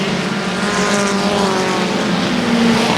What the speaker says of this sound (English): Sounds like a tin can full of rocks as he comes across the start-finish line